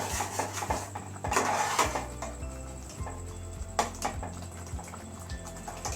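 A utensil stirs goto, a rice porridge made with Quaker oats, in a metal pot, giving scraping clinks and knocks against the pot with a low bubbling hum underneath.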